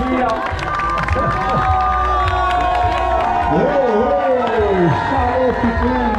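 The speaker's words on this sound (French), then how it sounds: "L'applaudir." At the finish of a 45 km trail race, a crowd cheers and claps for an arriving runner, with loud whistles, shouts and children's voices mixed with talk, close and lively throughout.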